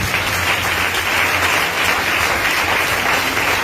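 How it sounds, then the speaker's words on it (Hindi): Loud, steady applause from a church congregation during a sermon, a dense continuous wash of clapping filling the whole stretch without pause. "आए अय्यूब के लिए जोरदार तालियां बजाएं"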